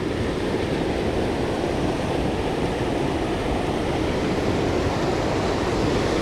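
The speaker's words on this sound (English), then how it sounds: "Look at this waterfall." A river waterfall in Tennessee pours in a steady, dense roar, close and unbroken throughout, with no voices.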